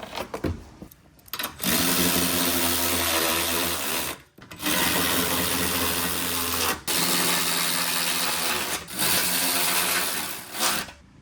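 A power tool runs loudly in long, continuous bursts while trimming the corner of a dust shield during a sway bar bracket install, close and steady, with brief drops between passes.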